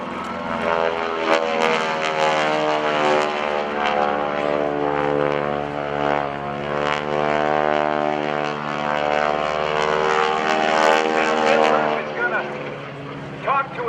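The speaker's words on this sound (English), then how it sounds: "Let's watch as the airplane comes by show center and does a roll-on takeoff." A propeller aerobatic airplane roars past at an airshow, its engine note climbing and sweeping by as it does a roll-on takeoff, loud and steady, with a voice talking over it.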